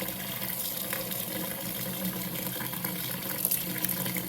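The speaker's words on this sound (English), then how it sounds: "so now we're at the sink, and I'm going to pour out all but about a half cup of this starter." Egg bread starter being poured out at a kitchen sink while running tap water gushes in a steady, moderately loud wash that lasts the whole stretch.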